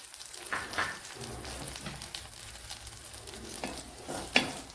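Garlic, ginger and green chilies frying in ghee in a pan, a faint, soft sizzle with a few scraping stir strokes and small clicks, no voices.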